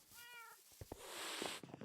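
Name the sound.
cats meowing in Minecraft, a video game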